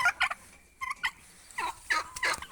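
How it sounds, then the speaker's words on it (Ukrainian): Turkeys gobble in several rapid, warbling bursts, fairly close and loud, with short pauses between calls and no talking. "Ось наш індик. Наші індички"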